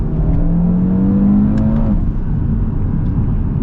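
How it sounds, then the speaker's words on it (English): Audi RS3 with a turbocharged engine accelerating hard toward redline, a loud steady engine drone with a rising tone in the first two seconds, then continuing under cabin road noise. "Yeah, and it pulls all the way to redline."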